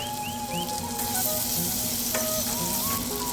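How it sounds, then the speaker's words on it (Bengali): Onion and chili fry in hot oil with bay leaf and cinnamon in a village kitchen, giving a dense, even sizzle that never lets up, with faint clinks and tonal ringing behind it. "পেঁয়াজ আর মরিচটাকে আমরা একটু লাল লাল করে ভাজা নেব"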